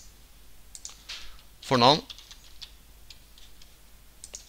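Someone works at a computer, with scattered soft keyboard taps and clicks under a voice speaking, and one brief louder burst midway.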